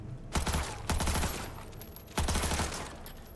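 Automatic weapon in Cyberpunk 2077 fired in loud sustained bursts, rapid rattling shots in two long strings separated by a short pause, close and dominant with no talk over it.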